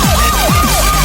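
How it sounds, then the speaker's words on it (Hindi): A loud wailing siren sweeps up and down in fast repeated cycles, close and dominant, with no talking. "वह शोर क्या है? सायरन, क्या चल रहा है?"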